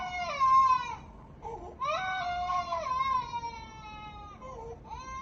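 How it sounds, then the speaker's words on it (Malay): A baby cries alone in repeated wailing bursts, loud and close, with short breaths between each rising and falling cry. "iaitu bayi menangis"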